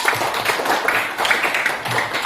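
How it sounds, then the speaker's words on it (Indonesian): A brief burst of dense applause from a group, steady clapping filling the whole moment without talk. "tepuk tangan untuk Akbar."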